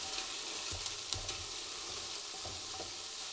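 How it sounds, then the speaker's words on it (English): Frozen veggie mince and chilli ingredients stirred in a Ninja Foodi pot, a soft steady sizzle with a few scraping, thudding stirs from a utensil, quiet and close. "And we'll give that a stir as well."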